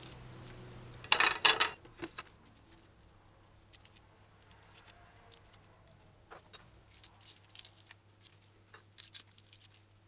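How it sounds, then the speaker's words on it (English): A knife trimming garlic cloves on a cutting board gives a quick burst of crisp cutting near the start, followed by light scattered taps and clicks against a quiet background hum. "Now with the garlic, remove the leaf, cut off ends"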